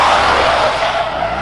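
A Buick rally car, fresh from a driver's side CV axle replacement, rolls along a road on a test drive, giving a steady loud rush of tire and road noise with engine hum underneath and no speech.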